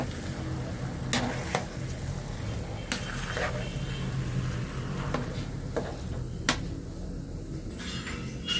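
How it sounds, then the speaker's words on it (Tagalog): A spoon scrapes and stirs a thick ube (purple yam) mixture in a pan, with soft continuous sizzling and occasional sharp clacks of the utensil against the pan's rim. "i-mix lang natin"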